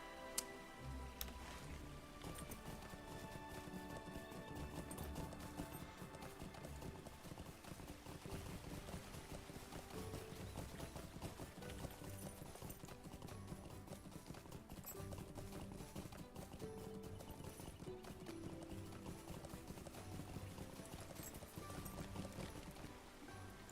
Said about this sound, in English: Dude, I'm on a horse.